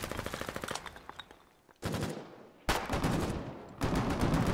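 Mounted machine gun in a video game firing sustained rapid bursts, loud and close, with short pauses between strings of shots and no talk over it.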